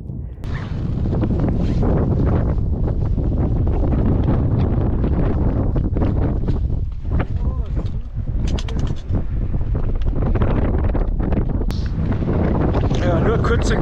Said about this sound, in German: Es ist ziemlich windig.